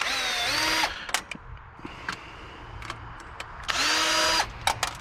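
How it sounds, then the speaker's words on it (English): Screws being backed out of the side of an old computer case with a power drill, two loud whirring bursts with a pitch drop at the start and end, separated by faint clicks and handling noise. "We'll open these up real quick. I guess it's just the screws on the side, maybe."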